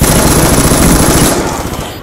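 A light machine gun fires in a video game, a loud, dense, continuous rattle of rapid shots up close that tapers slightly at the end.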